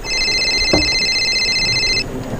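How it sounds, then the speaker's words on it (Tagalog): A cellphone rings with an incoming call during a Filipino radio drama, a steady electronic ringtone that sounds for about two seconds and then cuts off, with a brief knock-like thud partway through. "Oh, ang cellphone mo. May tumatawag yata."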